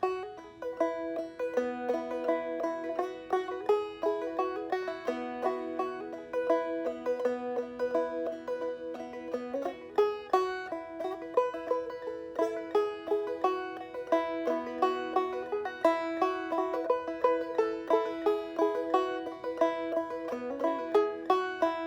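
The old American fiddle tune "Arkansas Traveler" plays alone, bowed notes bouncing along in a brisk, steady rhythm with no voices.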